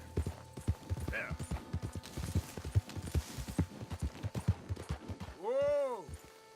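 Horse hooves clip-clopping at a steady quick pace in the Red Dead Redemption 2 video game, rhythmic close thuds throughout, with a horse's whinny near the end and a rider speaking over it.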